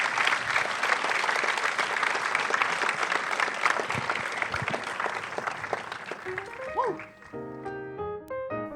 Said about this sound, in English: Can we hear it one more time for Trevante and Ashton